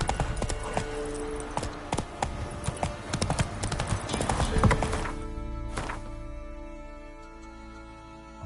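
Roach, a horse in The Witcher 3 video game, gallops with rapid, dense hoof clip-clops that stop around halfway, followed by a faint snort or whinny and quieter ambience.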